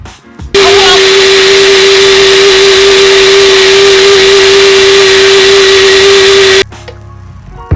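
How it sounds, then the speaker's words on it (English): Blender running steadily for about six seconds while blending enchilada sauce, a loud continuous motor whine with a strong steady hum, starting and stopping abruptly with brief quiet before and after. "I'm pouring my enchilada into my blender just to be blended"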